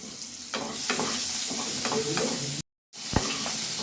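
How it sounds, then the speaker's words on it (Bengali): Radish pieces fry in a pan with salt and turmeric, a constant sizzle broken by scraping stirs, cut by a short silent gap before a sharp scrape resumes the frying. "এই মুলোগুলো ভেজে নিচ্ছি হালকা করে ভেজে নিচ্ছি একটু নুন দিয়ে আর একটু অল্প করে একটু হলুদ দিয়ে ভেজে নিচ্ছি"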